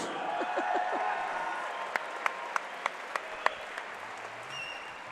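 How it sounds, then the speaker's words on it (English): Crowd applause after an amateur MMA cage bout, steady clapping and cheering from the audience with a few sharp, louder claps standing out, while faint voices shout in the background. "Let's get a big round of applause for these 2 fighters."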